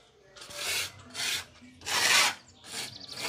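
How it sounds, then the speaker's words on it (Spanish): Sandpaper rasping across plaster window trim by hand, four distinct back-and-forth strokes with short pauses between, close and clear with no talking. "Ya le podemos pasar una lija"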